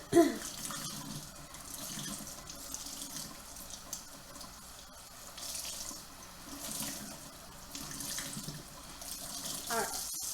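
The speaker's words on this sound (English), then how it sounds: "Let me rinse this a little more. That was a lot of dye." A kitchen tap runs steadily as freshly dyed fabric, heavy with orange and red dye, is rinsed under the stream, with splashing and shifting water flow throughout and brief faint talk.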